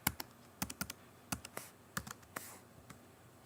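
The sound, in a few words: typing a password on a computer keyboard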